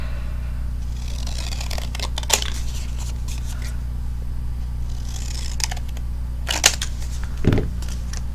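Scissors trimming a paper birthday sentiment for a handmade card, two clusters of quick crisp snips a few seconds apart over a low steady hum, close and fairly quiet, with no talking.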